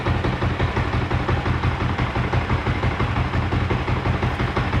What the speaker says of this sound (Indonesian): Mohon maaf sekali kalau suaranya berisik dari mesin.